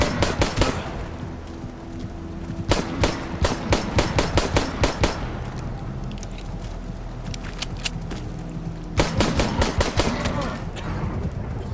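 Gunfire in Stalker GAMMA, repeated bursts of automatic shots and single cracks echoing through an underground area, loud and irregular over a steady rumbling background, with some talk at times.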